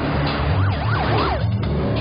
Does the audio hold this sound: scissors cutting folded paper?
no